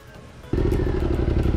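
A motorcycle engine starts up abruptly and runs at a loud, steady idle as it is loaded onto a bamboo raft for a river crossing at Tinipak River, Daraitan, Tanay, Rizal, after a quiet moment.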